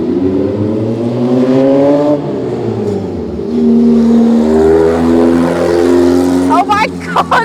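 A Volkswagen Beetle with a loud modified exhaust revs hard while standing still, engine pitch climbing and falling in repeated sweeps, close and loud, with people talking excitedly over it.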